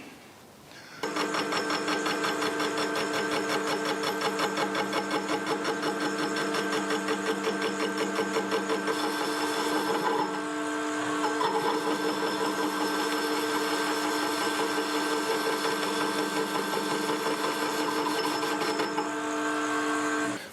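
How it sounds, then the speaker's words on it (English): A metal lathe running at 380 RPM faces a gym weight flywheel with a roughing tool, giving a steady, loud mechanical whine and rattling cut that runs nearly continuously, with a brief dip midway. "I've got the machine set for 380 RPM and I've got my roughing tool in for facing"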